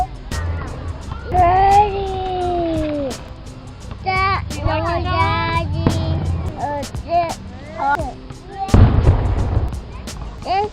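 Fireworks whistle upward and burst with sharp booms and crackles, while children and adults chatter and exclaim nearby.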